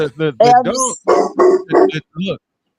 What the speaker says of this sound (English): Even dog is barking in agreement.